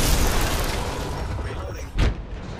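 An Arc Star grenade in a video game detonates with one short, sharp burst near the end, cutting through loud, continuous game noise.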